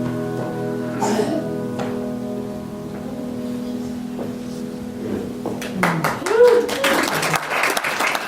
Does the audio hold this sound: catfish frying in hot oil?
no